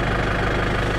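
A shredder's engine runs steadily at close range, a loud continuous rumbling idle with a faint knocking pulse underneath and no voices.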